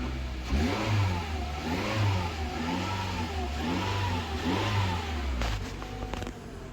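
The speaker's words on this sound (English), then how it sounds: "Just gonna give it a couple quick revs." A 2013 Toyota RAV4 engine revved in quick repeated blips just after an oil change, the pitch rising and falling several times before settling back to idle, close and steady.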